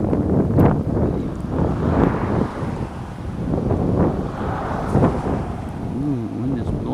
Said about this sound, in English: wind is blowing good